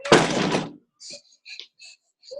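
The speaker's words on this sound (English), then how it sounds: "Can I close the door?" A door shuts with a single solid thunk at the start, followed by faint scattered high clicks and rustles in a quiet room.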